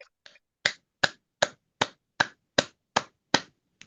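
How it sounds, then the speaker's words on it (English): Finger snapping at an online poetry event: about nine crisp, evenly spaced snaps, close and fairly loud, with no talking. "please give a round of applause for Pratima Castle, a new book."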